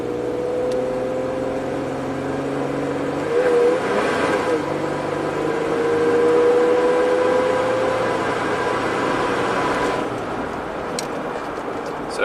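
A 3rd gen Toyota 4Runner engine under full throttle from inside the cab, a steady drone that climbs and swells in the middle before easing, with a faint whine on top.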